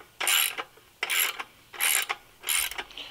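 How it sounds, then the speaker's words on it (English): A ratchet wrench turns bolts with a 5mm Allen bit on a GY6 engine, four quick clicking bursts of ratcheting spaced about a second apart, close and crisp with no talking. "we are using a ratchet"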